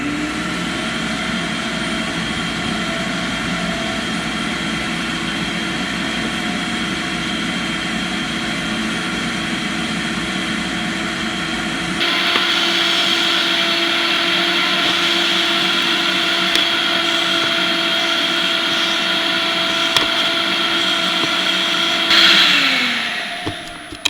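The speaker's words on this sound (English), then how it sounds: "So I'm gonna go ahead and vacuum that out." Vacuum cleaner working in the cabin filter area of a Nissan Kicks, a steady loud whine that shifts pitch and grows harsher partway through as the nozzle moves, then briefly rises and cuts off near the end.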